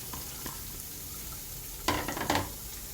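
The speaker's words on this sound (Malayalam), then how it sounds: "കുറച്ച് ചെറിയ ഉള്ളി എടുത്തിട്ട് നമുക്കൊന്ന് മൂപ്പിച്ചെടുക്കാം" Small onions (shallots) with chopped ginger and garlic fry in oil for mutton soup, a low steady sizzle broken by a couple of louder bursts as the pan is stirred.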